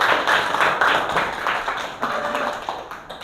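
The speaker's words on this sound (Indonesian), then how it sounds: "Tepuk tangan dulu." Students in a classroom clap together after a math lesson on the value 3.14, a short burst of uneven hand claps close by that tapers off.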